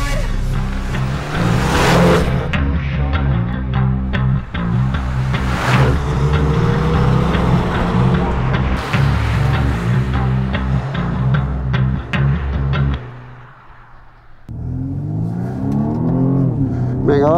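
BMW 235i Gran Coupe 2022 with all-wheel drive accelerating hard on a fast lap on Michelin Pilot Sport 4 tyres, engine roaring loudly up through repeated gear shifts, easing off briefly near the end before pulling again, heard from inside the car.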